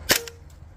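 Single sharp crack of an air rifle shooting an H&N slug pellet in a velocity test, one loud close report with a brief ringing tail fading into quiet.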